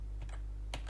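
Computer keyboard keys tap in two quick clusters during a session of Euro Truck Simulator 2, light clicks close to the microphone over a steady low hum.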